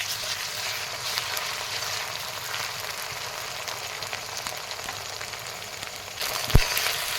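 Ginger-garlic paste fries with browned onions in a pan, a continuous close sizzle with light crackle and a brief knock near the end.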